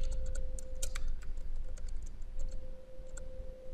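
Rapid keystrokes clatter on a computer keyboard while filling in a Word document, a steady run of close, light clicks over a constant electrical hum.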